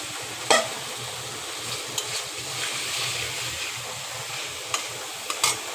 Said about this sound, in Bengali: এই পর্যায়ে আমি মাছটা দিয়ে দিলাম যাতে মাছটা এখানে কষানো হয়ে যায়।